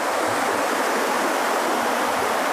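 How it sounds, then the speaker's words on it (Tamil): The Chemmanarai river in the Western Ghats forest, swollen by flood after three days of heavy rain, rushes past in a steady, loud, broadband roar of churning water, close and continuous, with no voices. "இந்த செம்மநரை ஆறு வந்து மழை வெள்ளத்தில் பயங்கரமாக போயிட்டுருக்குது."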